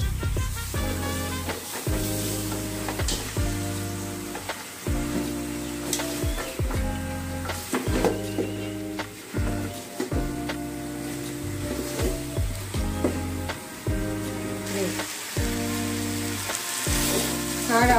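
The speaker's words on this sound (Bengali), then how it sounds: "10 মিনিট এভাবে কষিয়ে নেব" Beef nihari sautés in a pot, sizzling steadily up close while a spoon scrapes and turns the meat in a regular rhythm, with brief clanks between strokes.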